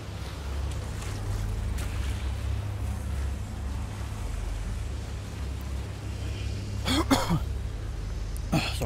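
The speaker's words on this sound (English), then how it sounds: "Sorry, had to clear my throat." A person clears their throat once in a short rough burst near the end, over a steady low rumbling, water-like ambience from the game Outriders Worldslayer.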